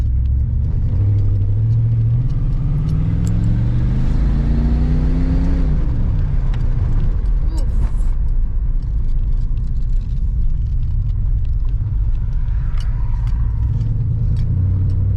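Old truck driven for the first time after sitting seventeen years, its engine running rough and loaded up: a loud, continuous low rumble with a rising then falling revving tone as it accelerates, close and unbroken throughout.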